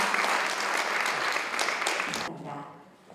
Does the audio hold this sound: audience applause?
yes